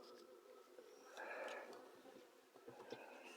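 Buckfast honey bees at an open hive, untreated for varroa mites for two years, give off a soft, steady buzzing that rises briefly as insects pass close, with faint handling noises from the beekeeper.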